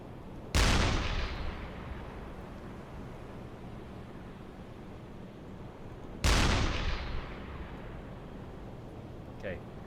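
A U-boat deck gun in the submarine game UBOAT fires twice, each shell a loud, sharp blast that rolls away in a long decaying rumble, several seconds apart over steady sea ambience.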